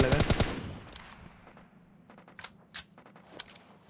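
A quick, loud burst of automatic gunfire opens a battle royale video game fight, followed by scattered fainter shots, clinks and distant pops trailing off.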